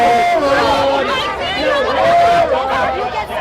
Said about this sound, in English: Wow, what a crazy crowd.